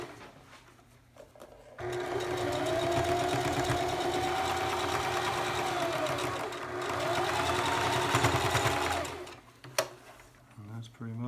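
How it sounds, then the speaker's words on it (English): A sewing machine top-stitches the center seam of a fabric face mask, running in a steady, fast mechanical whir for several seconds with a brief pause partway through, then stopping, with quiet surroundings before and after. "we're going to top stitch down the center seam."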